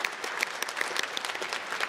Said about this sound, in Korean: 함께 예배드리고 있는 우리 부모님들 위해서도 다시 한번 축복 박수 보내드릴까요?